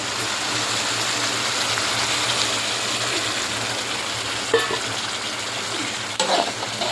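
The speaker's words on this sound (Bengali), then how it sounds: "মশলাগুলো ভালো করে কষিয়ে নিলাম আর ডিমগুলো প্রায় ভাজা হয়ে গেছে" Eggs frying with spice masala in a pan, a steady close sizzle and hiss running throughout, with a couple of brief clinks near the end.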